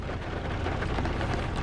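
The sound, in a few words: rain falling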